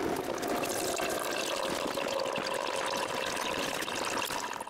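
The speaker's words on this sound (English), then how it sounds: "When the tank is empty, I can open the bottom valve to empty the water." Water draining from the open bottom valve of an air compressor tank, a steady, loud trickling pour that runs continuously from start to end with no voices.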